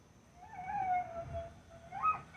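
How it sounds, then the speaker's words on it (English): Indoor dogs give a long, wavering howl as a storm approaches, a single drawn-out cry that climbs near the end. It is fairly close and clear against quiet room noise. "as you can hear the dogs,"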